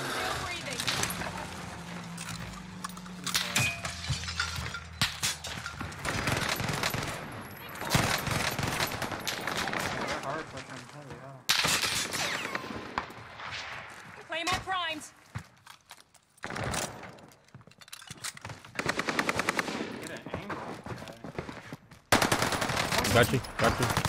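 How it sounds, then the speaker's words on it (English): Enemy gunfire in a multiplayer shooter video game rattles out in repeated loud bursts of automatic fire and single shots, close and overlapping, while players talk over it. "I'm getting shot by the other team."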